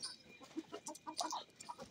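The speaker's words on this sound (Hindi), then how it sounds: "मैं अब वो मुर्गियाँ दिखाता हूँ जहाँ मुर्गी ने अंडे दिए हैं" Desi hens on a Pakistani poultry farm cluck softly in short, scattered bursts, several birds close by and murmuring at a low level.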